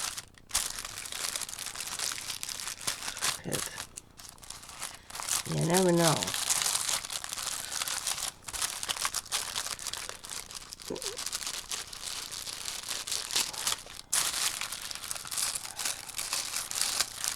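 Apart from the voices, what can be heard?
crinkling tissue paper while unpacking an order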